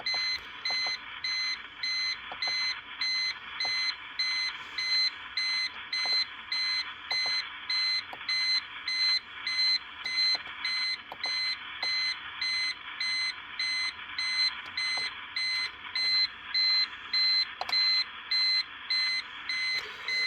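An uninterruptible power supply beeps steadily at a regular pace for the whole stretch, fairly quiet, with a faint constant tone underneath.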